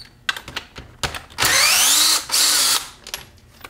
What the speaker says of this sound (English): we're going to take off all these bolts on the extension housing